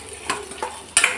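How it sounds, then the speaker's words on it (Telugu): Chopped onion frying in oil in a kadai, a soft sizzle under a few sharp metallic clinks and scrapes of a spoon stirring against the pan. "జస్ట్ ఆనియన్ ఫ్రై అయిపోతే సరిపోతుంది"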